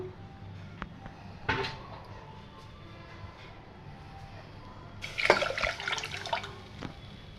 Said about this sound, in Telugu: ఇలా కొంచెం వాటర్ కలుపుకొని మళ్ళీ ఇది కూడా వేసేద్దాం